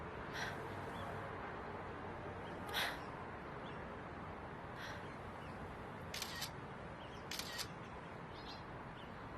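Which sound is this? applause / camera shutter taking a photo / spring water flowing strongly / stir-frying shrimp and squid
camera shutter taking a photo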